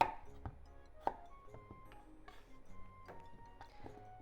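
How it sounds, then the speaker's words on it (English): A kitchen knife cutting the ends off cucumbers for a cucumber, tuna and glass noodle salad, heard as a few sharp, quiet chops on a board with soft clinks and pauses between them, nearby and with no speech. "Let's cut the cucumbers first. Cut both ends off."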